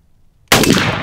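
A single loud shotgun blast firing Winchester Longbeard XR 3.5-inch number 5 turkey loads, sharp onset after near silence followed by a brief ringing decay.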